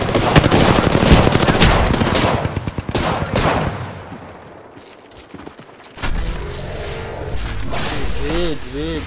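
Video game gunfire in a battle royale match: dense bursts of automatic fire and single shots. A loud volley comes first, then it eases and picks up again. A player's voice is heard in parts.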